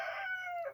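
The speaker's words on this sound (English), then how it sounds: "I am recording this outside, so if you hear any crowing in the background" A rooster crows outdoors, one short, clear call under a second long, heard in the background of a quiet morning with no talking.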